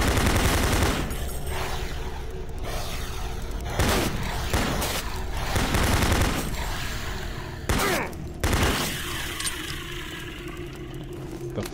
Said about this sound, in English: Why doesn't it continuously shoot?